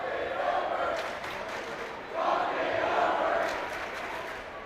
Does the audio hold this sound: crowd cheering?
yes